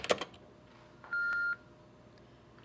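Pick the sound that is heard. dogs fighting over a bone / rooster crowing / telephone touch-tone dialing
telephone touch-tone dialing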